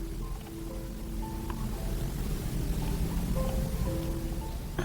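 Rain pours steadily as a sound effect, a dense constant wash of falling water at moderate volume, with faint tonal sounds drifting in the background and no speech.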